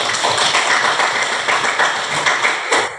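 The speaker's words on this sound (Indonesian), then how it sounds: "Kasih tepuk tangan sama dia." Students in a classroom clap for a classmate, a loud, close burst of rapid, uneven hand claps that keeps going steadily for several seconds.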